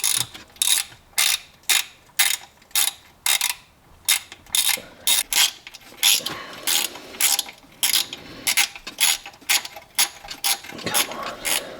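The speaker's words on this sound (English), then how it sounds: "Find the nut right there, and now loosen that up." A hand ratchet loosens a nut during an oil change on a Toyota A90 Supra with the B58 engine, clicking loudly and close in a steady rhythm of quick back-and-forth strokes, with no voices.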